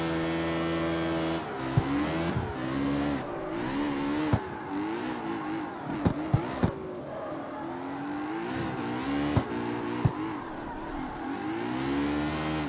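A hot rod drifting in the CarX Street game, its engine revving high with rising and falling pitch, tires squealing through slides and sharp clicks of gear shifts, loud and close throughout.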